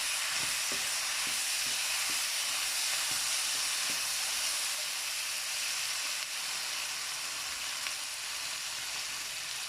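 Sauce sizzles in a hot pan while chilli paneer is mixed, a loud, steady frying hiss with a few soft stirring knocks in the first seconds.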